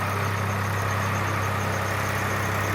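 A tractor working on a mountain road in hill country, its engine idling in a steady low drone with a constant hum and no breaks.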